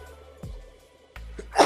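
A single sneeze bursts out near the end, close and fairly loud, after a stretch of low room noise and a couple of soft thumps; no talking.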